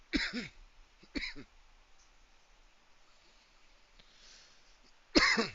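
Three harsh, throaty coughs close to the microphone, two near the start and one at the end, with quiet room noise between.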